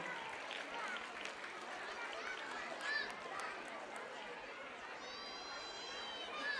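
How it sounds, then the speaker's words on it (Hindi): Applause at a primary school annual gathering, a crowd clapping steadily at a distance with chatter mixed in, fairly quiet and continuous. "इनके लिए जोरदार तालियां बजाई जाए"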